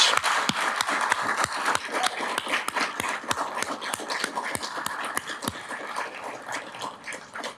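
A city audience claps after the mayor's State of the City speech, with distinct, fairly sparse claps from a modest crowd that thin out and soften toward the end.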